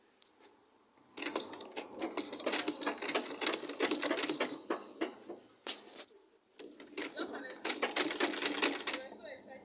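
Sewing machine stitching a back dart on a blouse, fast rattling needle bursts running several seconds, stopping briefly, then starting again, close and fairly loud, with a voice talking now and then.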